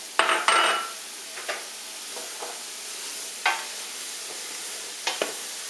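Zucchini tossed into a pot of vegetables for cream of vegetable soup, with a few scraping stirs and soft clinks against the pot over a quiet, steady sizzle; no talking.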